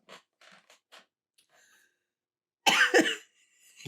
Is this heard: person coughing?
yes